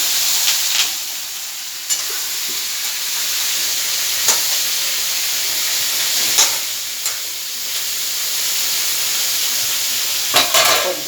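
Ridge gourd pieces fry in a pan for a chutney, giving a steady loud sizzle and hiss, with a few scraping stirs of a spoon against the pan.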